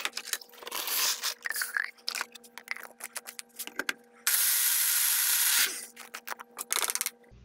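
Grain being ground for chickens in a grinder: bursts of rattling and crunching as the grain is handled, then a loud steady whir of about a second and a half as the grinder runs, followed by more rattling taps.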